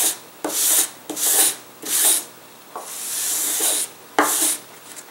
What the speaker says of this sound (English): I'm sliding the sandpaper across here.